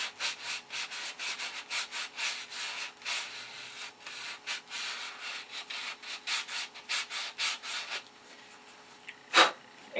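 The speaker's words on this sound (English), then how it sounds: "So we'll get some 320 here and sand the edge." Sandpaper of 320 grit rubs the edge of a plastic canopy for an electric Thunderbolt model airplane in steady, close strokes, a rhythmic scratchy rasp for about eight seconds before stopping, followed by one short bump.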